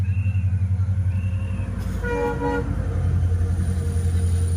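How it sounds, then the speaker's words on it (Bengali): A train rumbles past close by with a steady low roar, and a horn sounds briefly in the middle of the passage. "কে যাচ্ছে বাবা? ট্রেন?"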